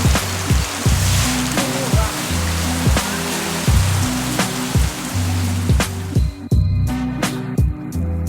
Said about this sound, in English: the rain has come back